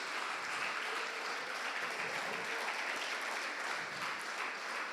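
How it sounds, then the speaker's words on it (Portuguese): A church congregation applauds during an anniversary service, a dense, steady wash of clapping that holds for several seconds at moderate volume without talk over it. "Pode aplaudir."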